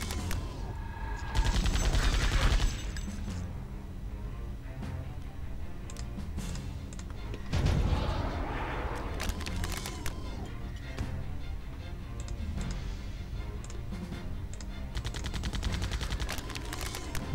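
A core knife attack plays out in the video game Septerra Core, a rapid run of sharp, crackling combat hits layered over a continuous in-game background score.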